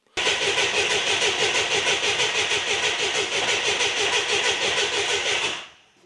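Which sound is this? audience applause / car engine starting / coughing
car engine starting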